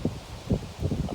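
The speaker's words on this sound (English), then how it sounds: "It's a nice and windy Sunday morning here." Wind on a Sunday morning in Red Wing buffets the microphone in low, uneven gusts, a soft rumbling rush in a brief outdoor moment.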